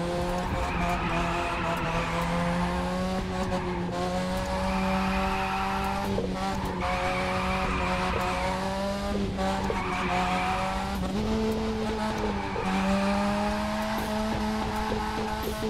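Race cars in the video game The Crew 2 roar at high revs with sustained tire squeal and skidding, engine pitch rising and falling through repeated gear shifts, loud and continuous throughout.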